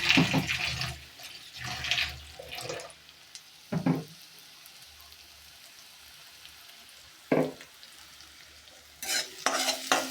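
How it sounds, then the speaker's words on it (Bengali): Onion frying in a pan in a village kitchen, heard as a low sizzle broken by several loud bursts of stirring and scraping, close by, with no talk. "পেঁয়াজটা ভালো করে ভাজা হোক"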